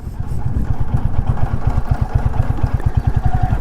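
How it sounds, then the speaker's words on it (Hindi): A Royal Enfield Bullet 350 Battalion motorcycle engine runs in fifth gear, its close, loud beat carrying a rapid, regular knocking from the gearbox side. "इंजन के गियर बॉक्स की तरफ से बहुत ज़्यादा नॉकिंग वाला साउंड है"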